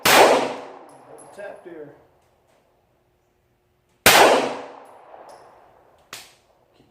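Three pistol shots from a Glock 19 Gen4 with stock sights and trigger, fired at a target 50 feet away on an outdoor range: two loud, sharp reports with decaying tails about four seconds apart, then a quieter third crack, with a brief voice between them.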